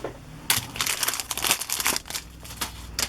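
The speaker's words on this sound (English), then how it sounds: "I have to open another package of my red line tape" A plastic package of red line tape being opened by hand: close, loud crinkling and crushing of plastic film in quick bursts, with brief pauses between handfuls.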